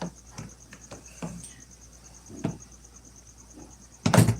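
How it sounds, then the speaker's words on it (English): Crickets kept in an enclosure chirp in a steady, faint high trill, with scattered soft clicks and taps and a louder rustling scrape at the end. "it looks like we have some baby crickets in there"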